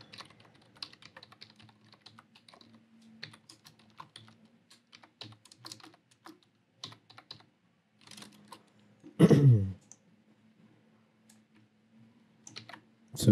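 Python code being typed on a computer keyboard: steady, close clicking of keys in uneven bursts, with one louder clatter near the middle and no talk.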